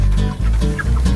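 Pastured chickens cluck loudly and close by inside a large farm coop, in a short burst of overlapping low clucks and calls.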